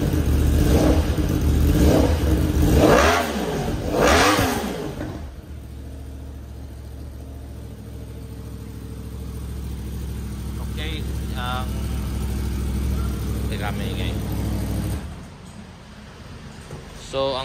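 A Yamaha R1M with a CP4 crossplane four-cylinder engine and an Akrapovic exhaust blips its throttle in a few loud, sharp revs, then settles into a steady, rumbling idle while people talk nearby.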